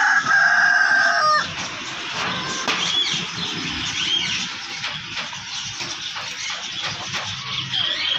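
At a poultry market, a rooster crows loudly for about a second before fading into steady clucking and the bustle of other chickens.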